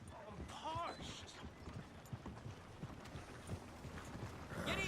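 Horse hooves clip-clop at a trot in the video game Red Dead Redemption 2, a quiet rhythmic patter under town chatter and street voices, with a man calling out near the end.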